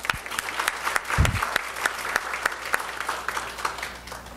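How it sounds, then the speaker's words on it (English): A conference breakfast audience applauds its sponsors, a crisp burst of many hands clapping with distinct individual claps spiking throughout, fairly close and fading slightly toward the end. "let's give all of our sponsors another round of applause"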